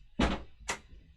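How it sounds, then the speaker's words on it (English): A door being closed indoors in a home, heard as two dull thuds close together near the mic, the first louder, followed by quiet room tone. "I probably should close my door."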